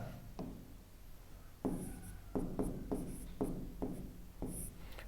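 Marker or chalk writing on a classroom board in a Hindi physics lesson on electric charge and field, with a series of scratchy, rubbing strokes in short bursts, close and moderately quiet, with no speech.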